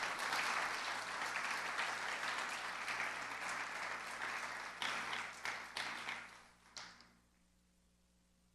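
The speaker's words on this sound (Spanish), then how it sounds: "¿Le puedes dar un fuerte aplauso al Señor?" A church congregation applauds loudly and steadily, the dense clapping thinning into a few scattered claps before fading out to quiet.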